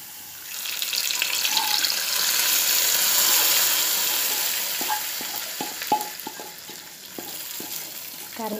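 Hot tempering poured into a home-style roasted-coconut prawn and potato curry, giving a steady wash of sizzling and frying hiss that swells and then settles, with a few light clinks of a spoon or pan toward the end.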